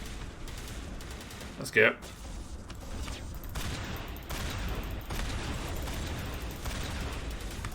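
Shotgun fire in the Mass Effect video game: one sharp, loud blast stands out over steady combat noise, and a voice speaks briefly.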